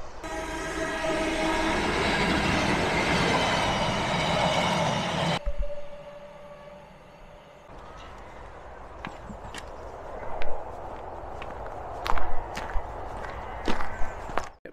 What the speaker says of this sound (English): the trains do come past here pretty damn fast